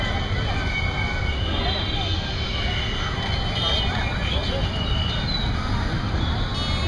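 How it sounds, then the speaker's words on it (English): Busy ambience at New Delhi railway station with a constant rumble of trains and a blur of crowd chatter and traffic noise. "That's the New Delhi railway station."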